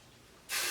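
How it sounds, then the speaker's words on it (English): A single close burst of Freeze It hairspray hissing onto the roots of a wig, starting abruptly after a quiet moment and holding steady and loud to the end. "I'm going to take my hairspray, my freeze it hairspray, get those roots super good."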